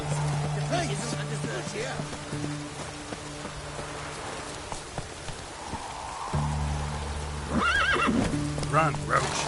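Roach, a horse in a video game, whinnies in a rising call near the end over steady hoof clip-clops and rainfall, with game voices and ambient noise through the scene.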